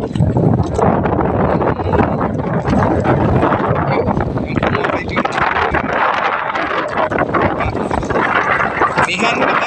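Strong northeast monsoon wind at sea aboard a fishing boat, a loud, continuous rushing roar with microphone buffeting and splashing water, while someone talks over it.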